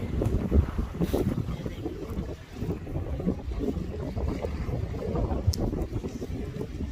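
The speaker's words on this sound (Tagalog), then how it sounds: "It's only windy." Outdoors at Aspnäs Nature Park, gusty wind buffets the microphone in uneven rumbling bursts, fairly close and moderately loud, with no clear speech.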